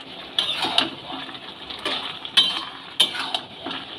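A spatula scrapes and clinks against a metal pan while shish palong spinach greens are stirred together with biuli dal lentil bori, in a few distinct close strikes with softer rustling stirring between them.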